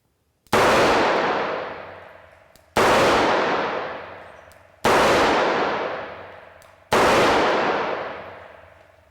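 Four single revolver shots fired at an indoor range, each a sharp loud crack with a ringing tail that fades before the next, spaced about two seconds apart, with no talk.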